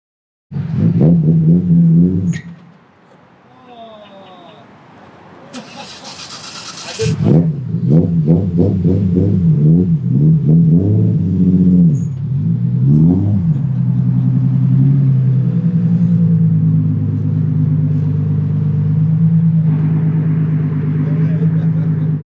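A Nismo R34 GTR with a Z-Tune kit rumbles loudly nearby, with its revs rising and falling over a deep, steady drone.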